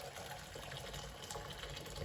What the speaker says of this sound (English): you put 1 liter of hot water in a pot,